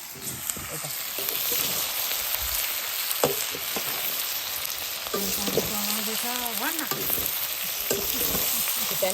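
Vegetables sizzle and fry steadily in a hot pan at home, with occasional stirring scrapes over a continuous crackling hiss; a brief faint voice is heard.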